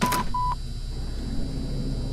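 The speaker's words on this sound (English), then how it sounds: "Let's charge the phone back up." An old phone being charged in the game Amnesia: Enigma gives two short electronic tone beeps in quick succession, clear and close over a low steady hum.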